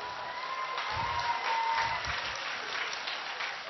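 An audience claps steadily in a lecture hall during a priest's talk, the applause sustained and fairly even throughout without speech.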